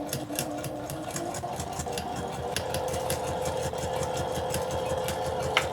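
A sewing machine back stitches a quarter-inch seam through quilt fabric for an Irish Chain block, a close, continuous rapid needle patter that holds steady throughout.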